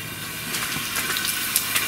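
Steady hissing and bubbling fizz from a lithium battery boiling under water, with faint crackles and no voices.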